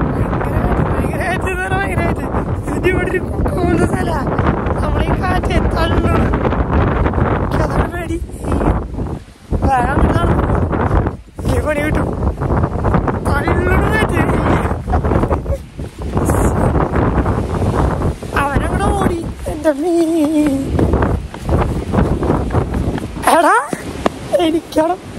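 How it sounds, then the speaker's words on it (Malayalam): Strong wind on a hilltop during a jeep offroading trip at Kolukkumalai, roaring gusts buffeting the microphone almost continuously with brief lulls, while people talk over it. "ഒരു സൈഡിൽ നിന്ന് കാറ്റ് തന്നെ മറ്റേ സൈഡിലൂടെ തള്ളുമ്പോൾ ഭയങ്കര പേടി തോന്നി"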